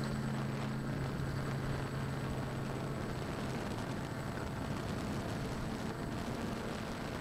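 A 3D Robotics X8 drone hovers in the air outdoors, its rotors giving a faint, steady whir with some light wind noise and a brief tonal hum at the start.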